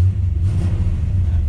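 The V8 of a 1970 Chevrolet C10 pickup idles with a deep, steady low rumble, close and continuous for a brief moment.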